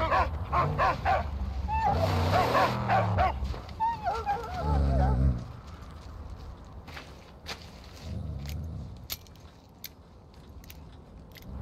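A dog in the Mad Max video game gives a few yips and whimpers amid footsteps and game effects, moderately close, with some voice over it.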